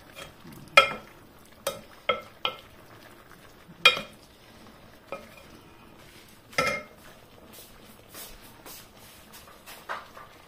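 A utensil stirs cornstarch dissolved in water in a cooking vessel, making a series of sharp scraping clinks at irregular intervals over a faint bubbling background, close and with no one talking.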